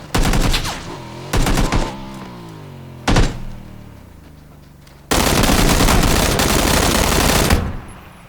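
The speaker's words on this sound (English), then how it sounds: "I actually didn't realize that the gun was on burst" Burst-fire gunshots from a PUBG video game: several tight clusters of rapid loud shots, then a longer sustained volley near the end, with no talking.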